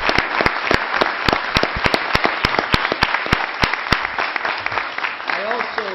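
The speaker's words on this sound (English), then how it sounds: "I think we owe them really a round of applause" Audience at a city council inauguration ceremony clapping steadily for several seconds, with sharp individual claps standing out over a dense patter and a voice starting to speak as it fades.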